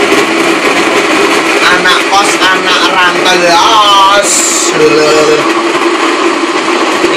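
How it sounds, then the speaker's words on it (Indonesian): An electric blender grinds cooking spices in a kitchen where food is prepared for fifty portions. The motor whirs steadily and loudly throughout, with people talking over it. "Iki proses blender bumbu"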